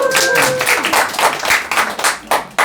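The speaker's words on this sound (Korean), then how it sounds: "좋으시면 박수 계속." People attending a math lecture clap in a steady burst that rises and falls in loose waves, fairly close and loud, then thins out into a few last claps.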